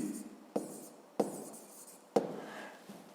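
A pen writes a fifth-grade math solution by hand on paper, soft scratchy strokes broken by three sharp taps at irregular intervals, close and quiet.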